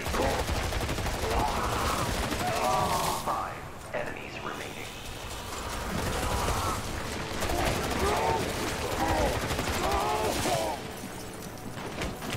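Submachine gun fire in the Synapse VR shooter on PSVR2, rapid bursts crackling steadily through the scene amid game effects, fairly close and loud.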